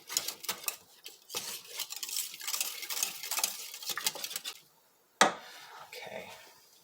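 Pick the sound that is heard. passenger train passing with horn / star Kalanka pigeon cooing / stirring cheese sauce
stirring cheese sauce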